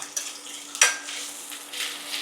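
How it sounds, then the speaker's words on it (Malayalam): Onions fry in a pan with a soft, steady sizzle, close by, with a sharp clink of utensil against the pan and occasional stirring scrapes, no talking. "അതാ നന്നായിട്ട് മുരിഞ്ഞു വരട്ടെ"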